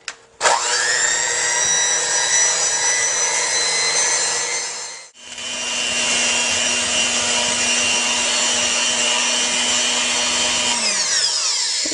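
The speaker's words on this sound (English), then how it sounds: "then you're going to whip this for about 12 minutes" An electric stand mixer whips marshmallow mixture, a loud sustained motor whine starting abruptly, dipping briefly midway, then running on and winding down near the end.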